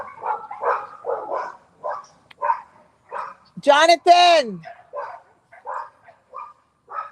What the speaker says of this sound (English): The dogs are barking too much.